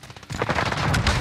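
Gunfire erupts in a Warzone match, a dense loud burst of shots taking over after a quieter opening and holding steady to the end.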